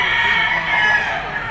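A Gilmore hatch green-legged bull stag rooster crows once, a loud, close, sustained call filling the short moment.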